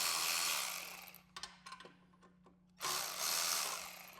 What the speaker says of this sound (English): First, let's loosen those clamps on the little shield in front of our muffler.